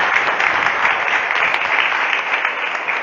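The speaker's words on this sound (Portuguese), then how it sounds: "Dá uma salva de palmas para a Virgem Maria." Steady applause fills a Catholic sermon gathering, a congregation clapping continuously and fairly loudly for about three seconds with no voices over it.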